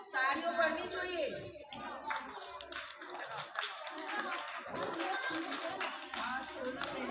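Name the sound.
audience clapping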